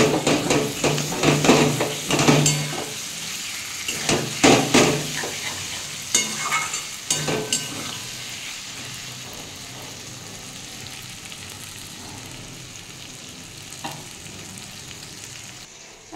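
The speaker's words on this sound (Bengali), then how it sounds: "বেগুনটা দেখুন ভাজা হয়ে গেছে, গরমও হয়ে গেছে" Eggplant frying in a covered pan, a soft continuous sizzle with stirring scrapes and clinks early on, then settling into a quieter hiss.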